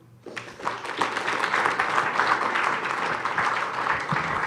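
Audience at a Toastmasters district conference opening ceremony bursts into sustained applause after a speech, a full, even wash of clapping from a large crowd that continues steadily.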